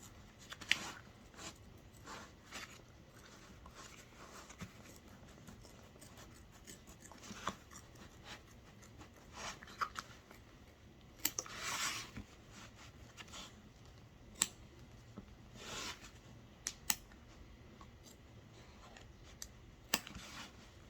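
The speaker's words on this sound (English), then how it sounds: "So you want to carefully cut around the entire perimeter of your tack down stitch." Scissors snipping through fabric around the tack-down stitching of a handmade strawberry coaster, a quiet series of irregular short cuts and rustles, close and soft with no talking.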